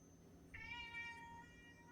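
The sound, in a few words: cat meowing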